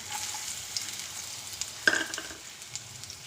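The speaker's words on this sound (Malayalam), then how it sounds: "ഇനി നമുക്ക് അതിലേക്ക് നമ്മൾ അരിഞ്ഞു വെച്ചിരുന്ന ആ ഇഞ്ചി ഇട്ട് കൊടുക്കാം. വെളുത്തുള്ളി ഇട്ട് കൊടുക്കാം." Chopped ginger and garlic frying in ghee and oil for masala pav, a quiet, even sizzle with a few faint stirring scrapes and one brief sharper clink near the middle, heard close with no talking.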